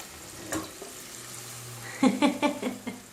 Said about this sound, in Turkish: zeytinyağında bir güzel soğanlarımı ve biberlerimi kavuracağım